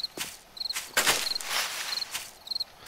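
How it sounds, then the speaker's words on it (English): Crickets chirp in short, regular pulsed bursts in a Darkness Falls mod survival game setting, with soft footsteps and scuffing movement sounds mixed in nearby. "You hear that, don't you? The crickets?"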